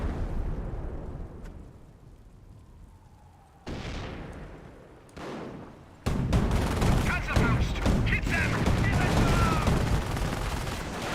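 Rifle grenade squad firing in a Company of Heroes battle, with scattered gunshots and blasts giving way to a dense, loud barrage of rapid gunfire and explosions.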